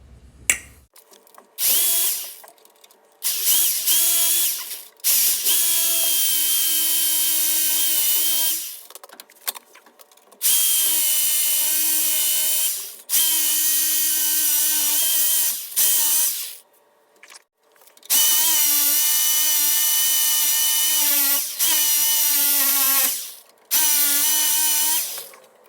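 A power tool cutting off old sway bar mounts on a 1976 Ford F150 truck, loud, high, whining runs of several seconds each, separated by brief pauses, with no talking.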